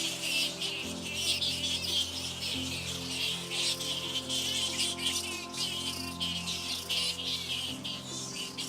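Hundreds of bats roosting in clustered trees near a rocky forest summit make a dense, continuous high-pitched chittering and buzzing, steady and fairly loud throughout, with low rumbling background noise beneath.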